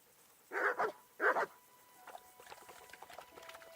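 A dog barks twice in quick succession in the medieval video game Kingdom Come Deliverance, fairly close and clear, followed by soft pattering and faint whimpering noises.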